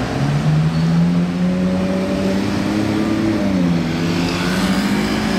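A Ferrari 812 Competition Aperta in bordeaux red drives by on a Monaco street, its engine note loud and rising then sliding down in pitch as it passes near, with no talk over it.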